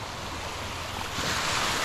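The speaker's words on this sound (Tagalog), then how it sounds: "Ayan ang alon ng dagat." Sea waves washing onto a shore in Marabut, Samar, a steady, full rush of surf with wind noise across the microphone, swelling slightly louder toward the end, with no voices.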